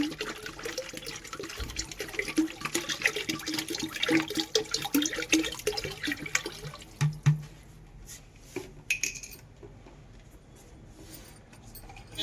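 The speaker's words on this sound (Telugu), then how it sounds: "ఇది mother culture one litre mother culture వేస్తున్నాం" Liquid mother culture for Gokrupamrutam pours into a drum with a continuous splashing gush that thins into scattered drips and trickles, close by and with no talking.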